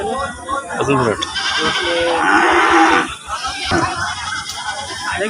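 Goat bleating amid the bustle of a village livestock market, several wavering calls in the first three seconds with crowd chatter and background noise continuing throughout.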